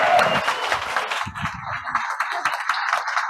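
Audience applause at a motivational talk, clapping from the people seated at the back of the hall, an uneven patter of many hands at close to moderate distance that runs on steadily.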